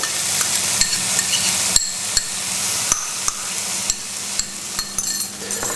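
Spices and garlic stirred into onions frying in a pan, with a bright continuous sizzle punctuated by sharp, regular knocks of a utensil against the pan.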